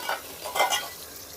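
Tomatoes and curry leaves frying with onions in a pan, a soft close sizzle broken by a few brief stirring scrapes.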